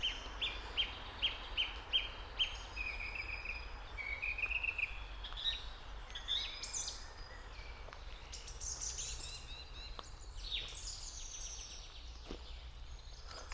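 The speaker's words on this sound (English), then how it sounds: "there's a bird just screaming its head off" A spring bird at Castle Eltz calling loudly and persistently, starting with a rapid run of sharp repeated notes, then breaking into varied shrill chirps and squawks over faint outdoor background hiss.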